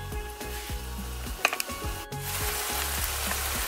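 Rice sizzling and frying in a pan for Trinidad-style Chinese fried rice with chicken, a steady crackling sizzle with a few clattering stirs near the middle.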